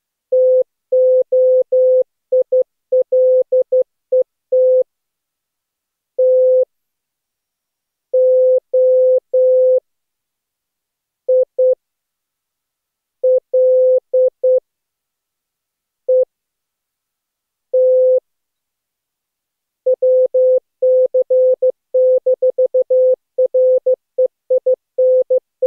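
Amateur radio Morse code in a single steady tone, keyed into quick irregular dots and dashes with short silent gaps between groups. It is loud and clean, with no voices.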